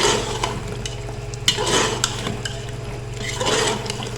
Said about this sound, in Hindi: और 1 टीस्पून ही जाएगा सूखा धनिया पिसा हुआ। और इसकी अच्छे से भुनाई करनी है हमें।